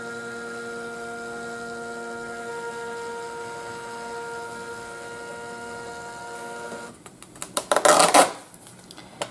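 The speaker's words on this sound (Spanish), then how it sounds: "Vamos a imprimir el de grano fino para que veáis la diferencia." A Phomemo M02S thermal printer runs near the end, a short burst of whirring and fluttering feed noise lasting about a second or two, after several seconds of steady electrical hum.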